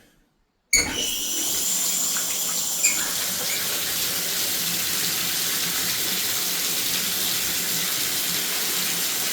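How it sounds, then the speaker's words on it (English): Steady water spraying and trickling from a leaking shower valve handle, close and continuous with a brief splash near the start and no voices. "See how it's dripping out of the back of this handle and a little bit out of this one?"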